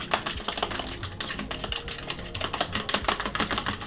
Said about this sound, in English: Whisking.